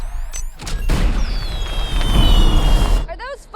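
Fireworks in a home setting, sounding as a dense, continuous rumble of booms and crackling bursts for about two seconds, with a whistling streak rising over it, loud and close.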